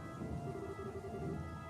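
Steady rain with low rumbling thunder in the video game Trails in the Sky 3rd, a continuous dense wash of downpour holding at an even level with no voices.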